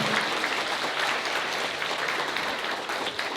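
Wedding guests applaud in a hotel ceremony hall right after the marriage is declared, a brief steady burst of clapping at moderate volume with no voices over it.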